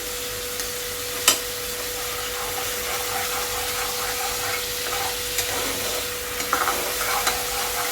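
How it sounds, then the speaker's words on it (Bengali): Spices with ginger, turmeric, sugar and salt sauté in a pan for a rui fish curry with potato and pointed gourd, making a soft, even sizzle with a few faint scrapes of stirring. "মশলাটা আমি ভালো করে কষিয়ে নিচ্ছি"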